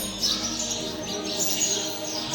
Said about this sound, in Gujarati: અહીંયા એવા કબૂતર પક્ષીઓનો કલરવ અમને ચકલીઓ